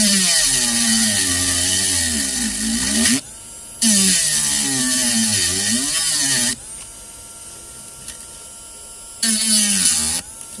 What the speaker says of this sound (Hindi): यहाँ पर बीच में इसको ड्रिल करना है, क्योंकि जो इसका मेटल है वो बीच में ही है